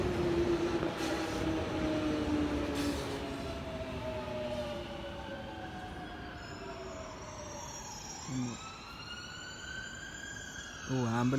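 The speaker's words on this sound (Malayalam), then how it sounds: "ആംബുലൻസ് പോകുന്നതിന് സൗണ്ട് കേൾക്കാൻ പറ്റുന്നു." An ambulance siren passes along a street near Stratford bus station in London, its wailing tones sliding downward as it goes by, with steady traffic noise underneath.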